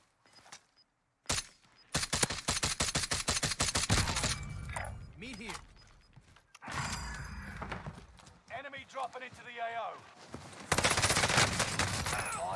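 A Cooper Carbine SMG fires rapid bursts in Warzone, a dense rattling stream of shots that stops and restarts several times, with voices talking between and over the firing.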